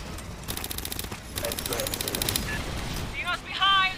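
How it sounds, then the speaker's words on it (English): Automatic weapons fire in the sci-fi shooter game Aliens: Fireteam Elite, with two rapid bursts close up. Players shout over the shooting, and a sharp electronic chirp follows near the end. "Drawn by the gunfire!"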